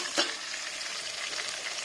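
Tomato and spices frying in hot oil for pepper rasam, a close, steady sizzle with a brief stirring clatter near the start, no talk.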